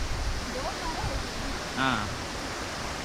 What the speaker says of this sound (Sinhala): ඉතින් අපි දියැල්ල ගහවට ඇවිල්ලා ඉන්නේ